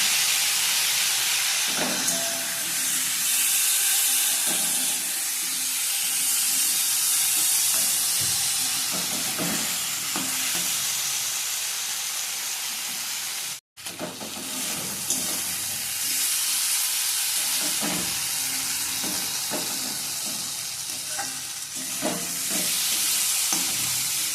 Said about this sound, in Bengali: বেটে রাখা আদা আর জিরেটাকে আমি অনেকটাই ভালোভাবে ভেজে নেব।